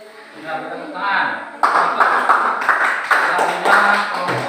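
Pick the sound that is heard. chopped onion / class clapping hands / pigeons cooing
class clapping hands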